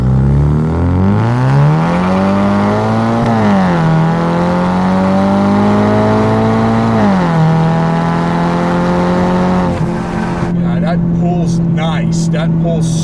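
A 2016 Ford Mustang EcoBoost with a manual gearbox launches hard from a standstill, its engine droning loudly and rising in pitch through a gear, dipping at a shift and then pulling again. Brief sharp clicks come near the end.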